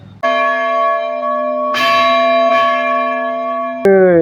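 A large temple bell struck four times, each strike ringing out with a long, bright metallic tone that keeps humming between hits. The sound is loud and close.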